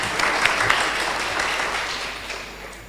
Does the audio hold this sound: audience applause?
yes